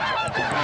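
A flock of snow geese honks in a brief, dense chorus of overlapping nasal calls during a snow goose hunt in Pennsylvania, loud and close.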